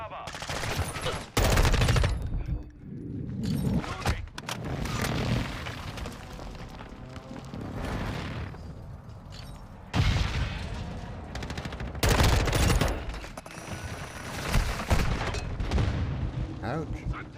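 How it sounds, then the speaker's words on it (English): Precision airstrike in a video game, a run of heavy explosions and rapid gunfire bursts recurring across the clip, loud booms punctuating continuous battle noise, with a voice talking throughout. "Enemy precision airstrike."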